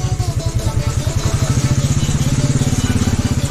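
Royal Enfield Bullet motorcycle engine thumping steadily at close range on a rough mountain road in Himachal Pradesh, its loud, even single-cylinder pulses running unbroken throughout.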